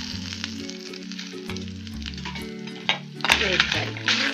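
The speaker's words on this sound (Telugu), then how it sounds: "కొంచెం ఆయిల్ వేసి 4 చెంచాల ఆయిల్, శనగపప్పు, మినపప్పు, జీలకర్ర, ధనియాలు వేసి వేయించాలి." Chana dal, urad dal, cumin, coriander seeds and peppercorns fry in oil for curry leaf and garlic spice powder, a steady bright sizzle with low tonal music playing beneath and a few louder crackling bursts toward the end.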